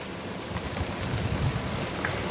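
Steady rain falls hard and close in a continuous, dense hiss, with no voices, on a wet day at a hunting spot.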